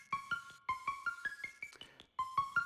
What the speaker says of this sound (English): which actually just sounds like this, which is just Euclidean melody